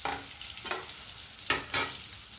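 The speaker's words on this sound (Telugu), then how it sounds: "సిమ్లో పెట్టుకుని వేగించుకోవాలండి" Bitter gourd frying in a pan over a low flame, a steady soft sizzle with a few brief stirring scrapes, close and moderately quiet with no talking.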